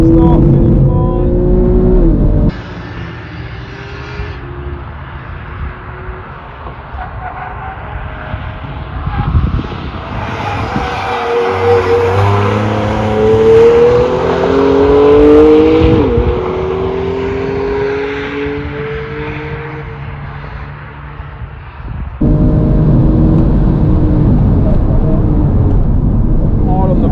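A Porsche 997 Carrera GTS laps a track, its engine droning loud and close from inside the car, revs rising and falling through gear changes, with a voice talking over it.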